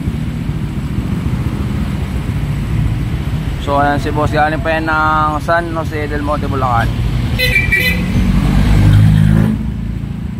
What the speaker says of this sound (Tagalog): May maingay na pangit na pipe.